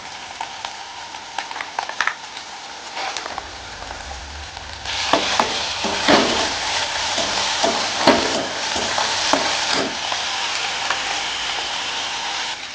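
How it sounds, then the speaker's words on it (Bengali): Spices and cumin paste fry in a pan for a chicken curry, a steady sizzle with clinks of stirring that grows louder and denser partway through, with no voices. "মশলাটা অল্প ভাজা হয়ে গেছে, এবার দিয়ে দেবো জিরে বাটা"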